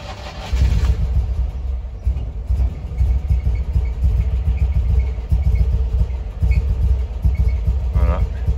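A Panhard 24BT car engine running after start-up, a steady low rumble that holds close and fairly loud throughout with slight rises in revs, no one speaking over it.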